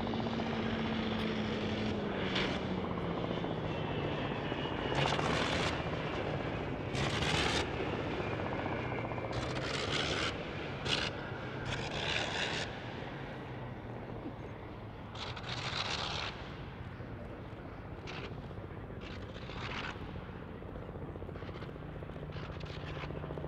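A vintage warbird propeller aircraft drones steadily nearby, its engine note sputtering and surging on and off as it comes in to land on a grass airfield.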